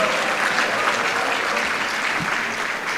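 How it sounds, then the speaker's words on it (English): Applause from the audience at the Kenya National Research Festival ceremony, a continuous wash of many hands clapping at steady volume, heard from within the crowd with no voices on top. "A round of applause for the Kenya National Research Festival."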